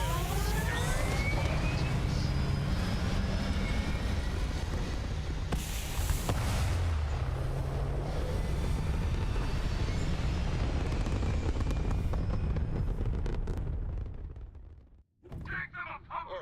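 Spaceship lifting off in Starfield, a loud sustained low rumble of engine thrust rolling steadily for about fifteen seconds before cutting out abruptly, followed by quieter ambient sound.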